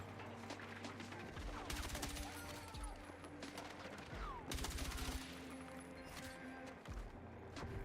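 Gunfire from a gun in a video game, bursts of rapid shots and fusillades with some crashing impacts, mixed under someone talking.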